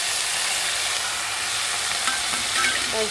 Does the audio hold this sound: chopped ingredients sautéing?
yes